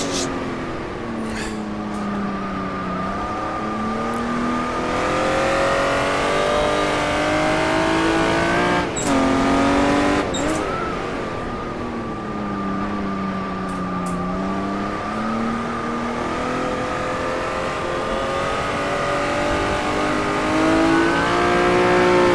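A Jaguar D-type racing car engine at Goodwood in a driving game, a loud, close steady roar that rises and falls in pitch through gear changes and revs, with a couple of brief sharp shifts partway through.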